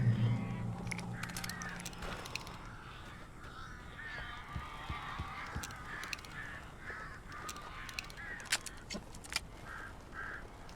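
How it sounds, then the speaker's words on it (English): Birds cawing in the Alan Wake video game, a scatter of harsh crow-like caws and honks repeating over a low ambient bed, moderately distant and fairly quiet. "These birds are weird."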